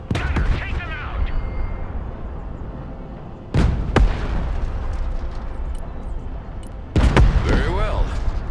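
A gunner shooting at enemies in the Broken Arrow strategy game, heard as three heavy, booming shots spaced a few seconds apart, each followed by a rolling echo over a constant low battlefield rumble.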